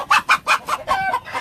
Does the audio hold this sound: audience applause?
no